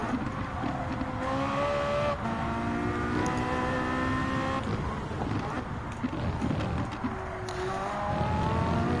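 Race car engine in Gran Turismo 7 during a Michelin time trial, droning and revving steadily throughout with shifting pitch, with a voice talking intermittently over it.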